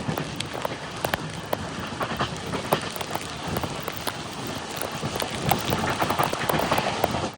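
A train runs along the Konkan Railway in monsoon rain, giving a steady, dense roar of wheels and rushing wet air with rapid rattling clicks, heard from on board and continuous throughout.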